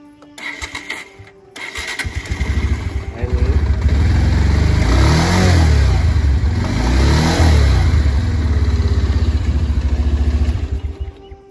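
A Bajaj Pulsar 150 BS6 motorcycle cranks briefly, fires up and settles into a loud, close, throbbing idle, then revs twice before steady running. Someone speaks briefly just before it starts.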